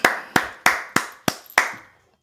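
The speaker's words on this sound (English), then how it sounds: "Clap that up." Six sharp hand claps in an even rhythm, loud and close, each with a short ringing decay, followed by silence.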